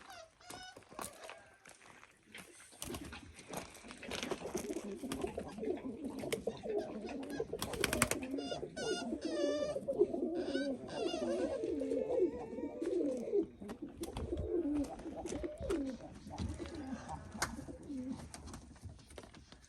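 Tumbler pigeons coo repeatedly in low, throaty rolling calls, fairly close, with scattered rustles and occasional sharper bird sounds around them.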